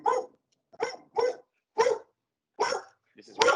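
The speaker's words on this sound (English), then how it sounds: "my dog barking" A dog barks six times in short, evenly spaced sharp barks, close and loud, with quiet gaps between them.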